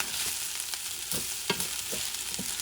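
Fish fried rice is stirred in a hot pan, with a constant soft sizzle broken by several sharp scrapes and knocks of the utensil against the pan at irregular intervals.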